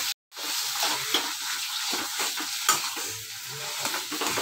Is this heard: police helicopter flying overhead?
no